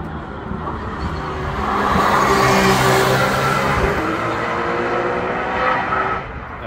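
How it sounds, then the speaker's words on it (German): A Porsche Cup 2 race car at the Nürburgring during test sessions, its loud engine roar swelling as it approaches and passes close by, then tapering off, with no talking. "mal wieder so ein Cup 2 Porsche"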